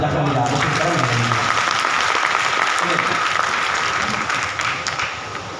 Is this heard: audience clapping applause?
yes